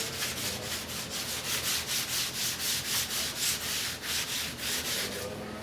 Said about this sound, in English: we'll take lacquer thinner and we're just going to wipe it down